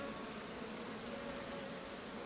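Honeybees hum around an open hive holding a laying queen and many eggs, a dense, steady buzz close by that fills the whole stretch without any talking.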